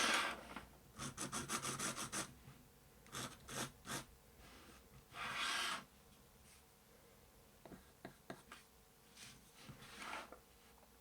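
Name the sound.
lightly sanding a coloured robin drawing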